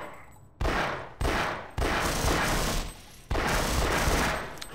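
Rapid automatic gunfire in Half-Life, fired at explosive boxes, comes in several loud sustained bursts separated by brief pauses, close and harsh, with no talk.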